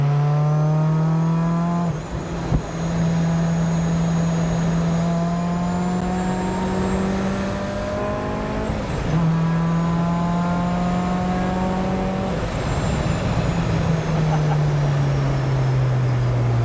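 A small supercharged Mazda Miata engine with a Rotrex supercharger, making 260 wheel horsepower, drones loudly at steady high revs, with pitch rising and dipping as gears change, close by and sustained.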